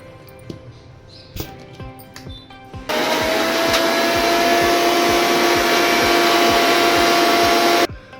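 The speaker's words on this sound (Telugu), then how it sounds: "అందుకోసమే నేను బాగా మెత్తగా గ్రైండ్ చేసుకుంటాను." A mixer grinder finely grinds tamarind for a tomato pickle. Some clatter and knocks come first, then a loud steady motor whine runs for about five seconds before stopping abruptly.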